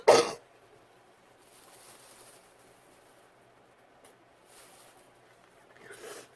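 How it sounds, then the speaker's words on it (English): A single sharp cough sounds at the start, close and fairly loud, then quiet room tone with a few faint rustles follows. No one talks. "the more I talk, the more this cough comes"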